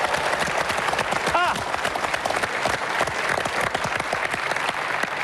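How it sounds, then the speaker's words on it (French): Warm studio-audience applause for two game-show teams on L'or à l'appel, loud sustained clapping with a brief vocal exclamation partway through. "Je voudrais quelques applaudissements chaleureux pour nos deux équipes si sympathiques."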